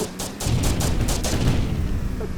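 Rapid bursts of video game gunfire, several loud shots in quick succession with a booming low end, close and dominant with a faint voice underneath.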